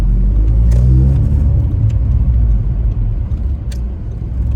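A 103 bhp 2008-style Seat Ibiza 6J 1.4 SE accelerating to overtake, heard from inside the cabin as a loud, steady low engine drone with rising rumble.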